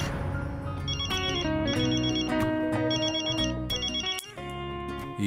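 A telephone ringtone plays loud and alone, a repeating electronic melody with bright warbling notes in regular bursts, broken by a short gap before it resumes.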